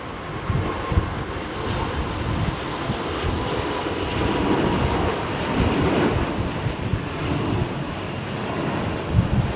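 An airliner departing Heathrow runway 27R roars loudly and continuously, a broad rumbling engine noise with some wind buffeting on the microphone.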